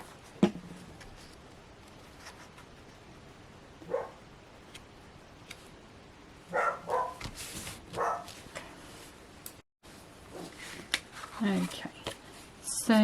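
A dog barks indoors in a kitchen during a papercraft session, a few short barks scattered among rustling and light clicks, with a person talking at moderate distance.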